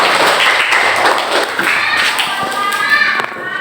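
A classroom of students claps for a classmate in a short burst of scattered hand claps and thumps, mixed with children's voices talking over it.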